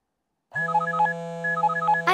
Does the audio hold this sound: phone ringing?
yes